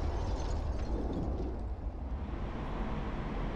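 Iron bombs detonating on a ground target in an Su-25T ground-attack flight simulator, heard as a loud, dense, continuous roar of explosions and rumble with no pause, no voices over it.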